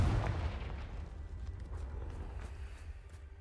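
A Confringo fire spell explodes in the Hogwarts Legacy video game, a single booming burst with a heavy low rumble that rolls on and slowly fades under crackling debris.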